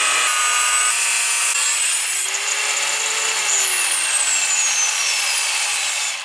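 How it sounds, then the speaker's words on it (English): A Rubi TC125 tile saw rips a shallow pass along a slab, its blade whining loudly and steadily throughout, with the pitch sliding slightly as the cut loads and eases near the end. "Run the saw the full length of your cut"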